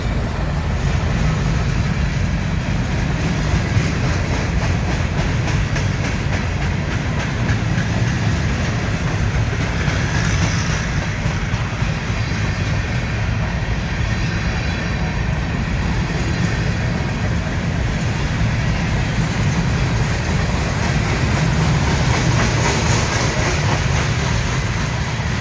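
A very long train rolls past on the railroad in Wartrace, Tennessee, a steady, close rumble of wheels and cars with faint rhythmic clatter continuing unbroken throughout.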